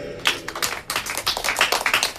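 A congregation at a church service claps together, a dense burst of crisp handclaps that starts abruptly and keeps going steadily, fairly loud and close, with no voices over it.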